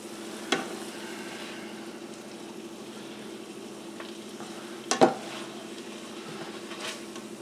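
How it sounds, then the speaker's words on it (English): Thick homemade coney sauce scraped and stirred as it goes into a crock pot, with a low steady bubbling texture, two sharp clunks of a utensil against the pot, and soft scraping throughout. "I'm going to transfer all this stuff, all this goodness, into this crock pot over here"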